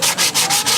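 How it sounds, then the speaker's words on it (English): Fine sandpaper rubs across a dried gourd in quick back-and-forth strokes, four or five rasping passes in under a second, close and loud with no talking. "take you some very fine sandpaper and you'll rub it"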